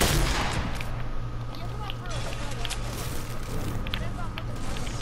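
Rapid gunfire bursts from the Fortnite video game crackle over a steady game soundscape, with players talking throughout.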